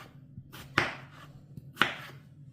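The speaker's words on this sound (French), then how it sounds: "je vais couper mes petites pommes de terre en petits cubes comme ça" Potatoes diced into small cubes with a knife on a board for a tartiflette, two distinct sharp chops about a second apart with faint lighter taps between, close and fairly quiet.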